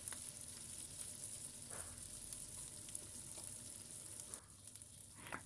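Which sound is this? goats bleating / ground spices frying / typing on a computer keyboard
ground spices frying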